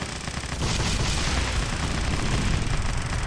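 Dense, continuous rocket fire and gunfire in the video game 50 Cent: Blood on the Sand, a loud, sustained barrage of booms and rapid shots with no pauses.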